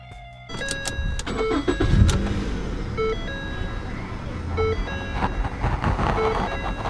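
A 2012 Ford Fusion flood-damaged car starts after a brief quiet moment, its engine catching and settling into a steady idle, accompanied by repeated electronic chimes and beeps at regular intervals.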